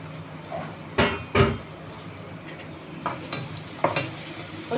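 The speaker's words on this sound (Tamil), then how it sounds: "இப்போது இந்த மாதிரி ஒரு கைப்பிடி அளவு வேப்பம் பூவை சேர்த்து நம்ம நல்லா வதக்கி விடலாம்." Neem flowers sautéed with onions in oil in a pan, a soft steady sizzle broken by a few sharp scrapes and knocks of a spoon against the pan, stirred at irregular intervals.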